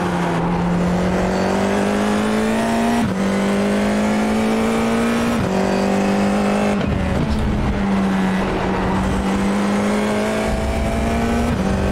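A Formula 4 iR-04 race car in iRacing at Rudskogen, the engine screaming at a loud constant pitch that dips briefly at each upshift before climbing again, with no talk.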